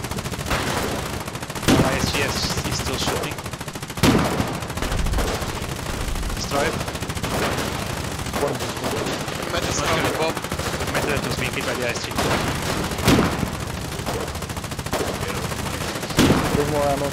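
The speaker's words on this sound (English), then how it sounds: "Yes, he's still shooting." Machine gun fire during a naval battle in the game Foxhole: loud, sustained rapid bursts of automatic fire, nearly continuous with brief pauses, and voices talking under the shooting.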